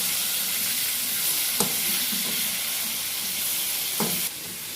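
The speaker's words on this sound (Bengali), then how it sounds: "আলুটা একটু লাল করে ভাজতে হবে।" Potatoes seasoned with salt and turmeric fry in a pan with a steady, close sizzle and hiss, broken by a few sharp stirring clinks.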